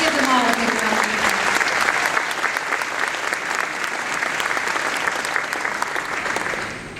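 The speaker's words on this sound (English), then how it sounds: "Let's give them all a big round of applause." Sustained audience applause at an awards ceremony, dense and steady clapping filling the whole stretch at full strength before easing slightly toward the end.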